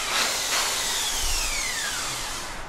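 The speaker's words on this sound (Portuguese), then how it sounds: "É com barulho de furadeira" A power drill whines steadily at close range during home renovation work, a continuous high-pitched motor drone with a sweeping pitch change as it runs, with no voices.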